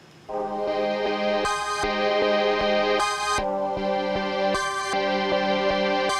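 Synth sample layer run through a Gross Beat preset in FL Studio, chopped and repeated into a rhythmic pattern of sustained tonal blocks with bright bursts recurring at regular intervals, playing alone.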